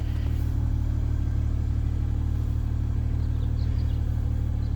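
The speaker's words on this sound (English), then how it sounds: "have some fun with the exhaust sound" Steady low idle rumble from the exhaust of a 2020 BMW M340i, a constant deep drone with no revving, close and unbroken throughout.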